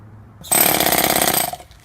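A spear-jackhammer melee weapon in a zombie video game fires a single short burst of rapid, harsh mechanical hammering, loud and close, lasting about a second before stopping.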